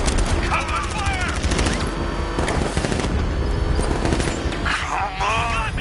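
Machine gun fire in a Batman video game: loud, continuous rattling bursts under a dense wash of game music, engine noise and effects, with voices speaking throughout.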